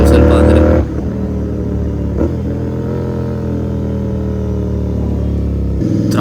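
Royal Enfield GT 650 motorcycle fitted with a performance air filter, its engine revving hard at first, then settling into a loud, steady idle rumble before a brief rev rises again at the end.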